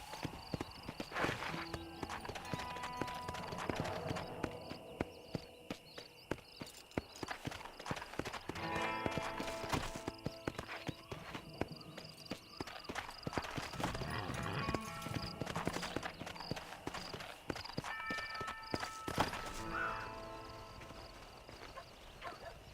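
A horse's hooves clip-clop steadily in the video game Red Dead Redemption on Xbox Series, a continuous moderately loud trotting rhythm mixed with game ambience, music tones and occasional faint voices.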